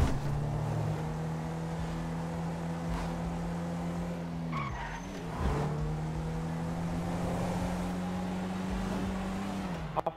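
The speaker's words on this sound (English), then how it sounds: "Driving fast as shit." A car in GTA 5 driving fast, engine holding a steady high note that dips briefly as if shifting or braking, with tire noise throughout, loud and close with no talk.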